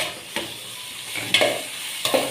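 Tomatoes and spices fry for a tempering, with a steady sizzle and three distinct scraping stir strokes against the pan at regular intervals, close up.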